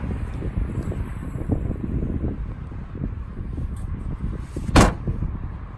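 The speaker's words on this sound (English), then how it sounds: "the trunk makes a rattling sound when it closes" Trunk of a Tesla Model 3 shutting with a single sharp slam and a brief rattle, heard close over steady wind and background rumble.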